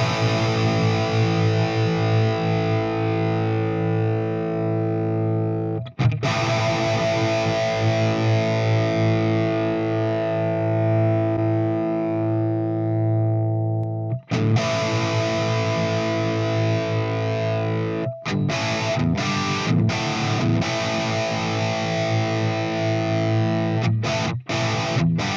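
An electric guitar played through an EVH 5153 amp and 5153 cabinet, heavily distorted with sustained chords ringing out, then a series of tight, choppy palm-muted stabs, loud and close with no talking.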